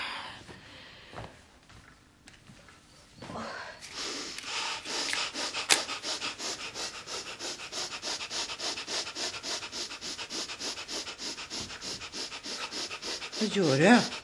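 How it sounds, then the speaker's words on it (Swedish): A person breathes deeply and audibly, with a long stretch of steady, rhythmic, rough inhales and exhales that stay close and fairly loud, ending in a louder burst. "Nej, jag andas bara."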